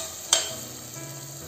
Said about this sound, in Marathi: आणि छान परतून घ्यायचं आहे